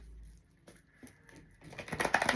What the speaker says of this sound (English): We're saying one more shuffle